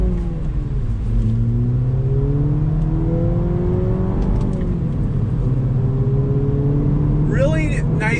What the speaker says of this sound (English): Let's do a little acceleration.